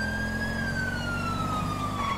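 A police car siren in a video game wails continuously and loudly close by, its tone sliding slowly downward over a low vehicle rumble.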